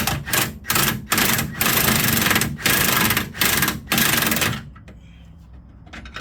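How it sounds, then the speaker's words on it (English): A large impact wrench drives a bolt while QA1 upper control arms are installed on a vehicle, firing in loud rattling bursts with short pauses between them and then stopping, leaving quiet shop background. "It might sound like I'm tightening it down all the way, but I'm not."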